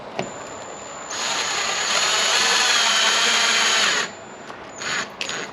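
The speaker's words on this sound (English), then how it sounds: "we'll start putting the screws in." Power drill driving screws into a part of a Cadillac CTS-V conversion kit on a CTS-V Sport, a loud, close, sustained whine of about three seconds, with short bursts of motor noise before and after.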